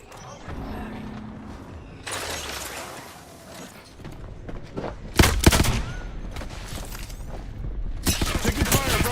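Gunfire in a shooter video game: bursts of shots and sharp cracks, with a loud volley about midway and more toward the end, mixed with mechanical clatter and game sounds at moderate level.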